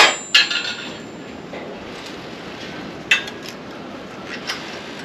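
A metal wrench comes off a valve adjuster on a Briggs & Stratton 37hp Vanguard EFI engine in a Wright ZK52 mower, giving a few sharp metallic clinks and taps, with one near the start and another about three seconds later.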